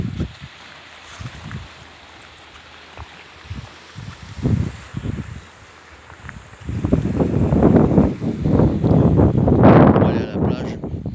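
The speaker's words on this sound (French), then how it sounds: "Il y a un peu de vent" Gusty wind along a coast road beside the Sea of Marmara, buffeting the microphone in irregular rumbling bursts that build into a loud sustained roar in the second half, with no talk.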